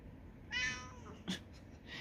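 Indoor pet cat gives a clear drawn-out meow followed by a short second sound, both fairly close and soft against a quiet room.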